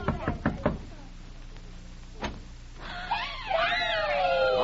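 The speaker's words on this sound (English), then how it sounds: "just knock at the door and you'll find out" A few sharp knocks rap on a door in a quiet room in a vintage radio crime drama, followed by a single louder knock; voices begin talking afterward.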